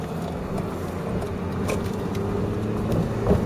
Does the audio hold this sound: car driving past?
yes